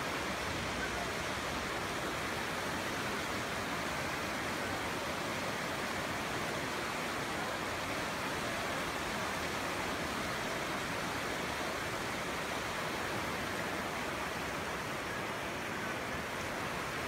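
River flowing beside the road to the fish lake at Uzungöl in northern Turkey, a steady broadband rush of water that stays constant and loud throughout with no voices.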